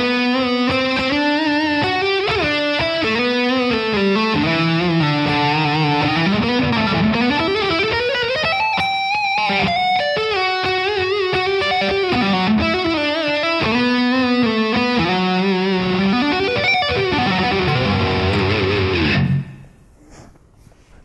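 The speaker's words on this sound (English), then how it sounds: "now I'm going to go to the neck pickup and we're going to try some leads" An Ibanez TAM100 electric guitar on its neck pickup plays distorted, sustained, bending lead lines with a warm, rounded tone, continuous and loud, then cuts off abruptly near the end.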